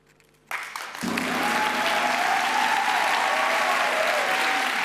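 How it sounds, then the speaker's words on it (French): A theatre audience at a thesis presentation finale breaks into applause after a brief quiet moment, a sudden loud wall of many hands clapping that swells and holds steady to the end. "En effet, on peut l'applaudir."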